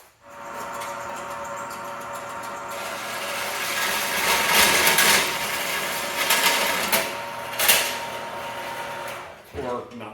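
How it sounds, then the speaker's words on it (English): A cheap Harbor Freight bandsaw that tends to throw its blade runs with a steady mechanical whir and rattle, rising into louder cutting and rubbing bursts midway, with a voice speaking over it. "This is the downside to the crappy Harbor Freight bandsaw. This thing likes to not hold a blade."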